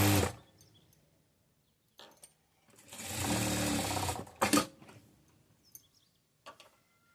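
A sewing machine stitches a blouse in short runs: a brief burst at the start, a louder sustained whir of stitching in the middle, then scattered clicks and light handling; no voices.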